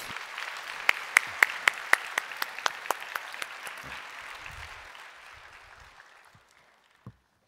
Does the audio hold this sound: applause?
yes